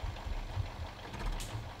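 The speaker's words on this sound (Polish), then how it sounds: "Dobra, to ja może sobie zgaszę silnik." A truck engine idles in the Spintires off-road driving game, a steady low rumble running evenly and up close through the short stretch with no talk over it.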